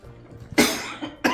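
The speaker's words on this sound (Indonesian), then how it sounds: "waduh batuk lagi." A man coughs in a single harsh burst, then a shorter second cough follows a moment later, close and loud after a quiet stretch of room noise during a talk-show style conversation.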